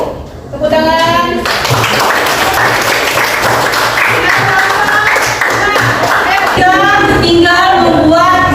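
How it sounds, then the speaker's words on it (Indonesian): A classroom of children applauding a student group, loud dense hand clapping that starts abruptly and carries on steadily, with kids' voices chattering over it. "Tepuk tangan."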